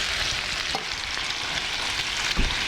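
Lamb frying in hot oil with rosemary leaves, a constant dense sizzle with a couple of faint knocks from the pan, close and alone without talk.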